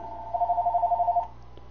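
A phone rings with one fast electronic trill lasting about a second, clear and moderately loud over a low steady hum, with no one talking.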